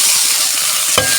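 Onion and tomato frying in oil in a pan, a loud close hiss of sizzling throughout with a brief stirring clack near the end.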